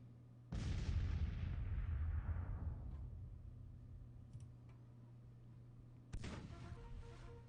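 Artillery in the Civil War strategy game Grand Tactician fires with a heavy booming blast that rolls off into a long decaying rumble, followed by a second sharp report several seconds later, over a steady low background hum.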